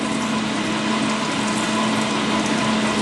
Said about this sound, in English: This lathe's got cutting water, got white water on it, I'm going to use it.